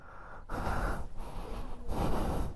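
A cyclist pants and gasps heavily while climbing Mt. Gulugod Baboy, with loud, close, rough breaths coming in long bursts and brief pauses between them.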